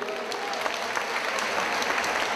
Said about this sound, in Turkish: Stuttgart'a gidip şöyle bir alkış alayım bakayım.